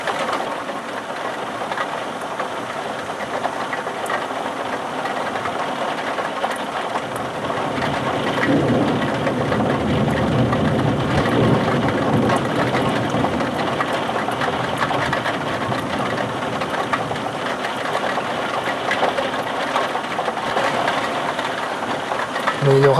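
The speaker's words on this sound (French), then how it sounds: "je vous ai mis sous le Velux puisque ça pleut" Steady rain drums on a Velux roof window during a thunderstorm in Sallanches, a dense even hiss throughout with no distinct thunder claps and no voices.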